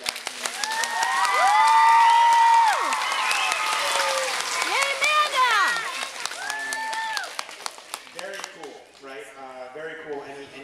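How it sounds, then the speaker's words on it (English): An audience applauds and cheers loudly for a student essay winner, a sustained wash of clapping with whoops and shouts that peaks early then tapers off as voices talk over the fading applause. "how about one more really, really, really, really loud of applause for our winner, who wrote a beautiful essay"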